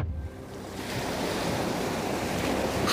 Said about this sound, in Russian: Шум волн Каспийского моря